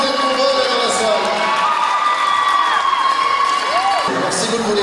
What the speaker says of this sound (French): Merci d'accueillir et d'applaudir s'il vous plaît les 9 candidates à l'élection de la Reine de ce soir